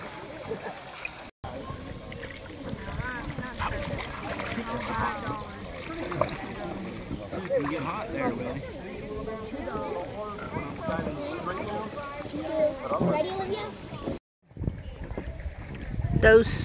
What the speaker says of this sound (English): Noah, you need to paddle that way a little bit, buddy.